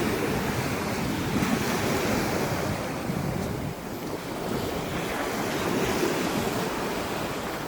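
Sea waves wash steadily onto a clear-water beach at Botolan or San Felipe in Zambales, a continuous broadband surf roar mixed with wind buffeting the microphone, with no talking.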